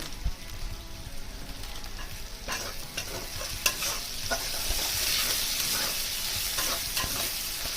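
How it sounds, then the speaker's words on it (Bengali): Spice paste with red chili powder frying for a Bengali pomfret fish curry, a steady close sizzle with stirring scrapes and occasional spoon knocks throughout, no voices. "মশলা ভালো মতো কষানো হয়ে গেছে, এবার আমি লাল লঙ্কা গুঁড়োটা দিয়ে দিলাম।"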